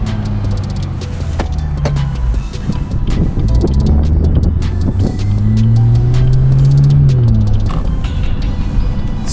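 A BMW F30 with a very loud aftermarket air intake drives along, its engine rumbling steadily with a rising and falling whoosh of intake and turbo spool over wind and road noise, with no talking.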